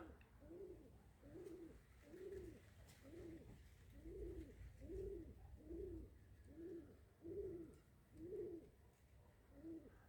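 Nikolaev pigeons coo in a steady repeated rhythm, about ten soft rounded calls over a low background rumble, moderately close and unhurried.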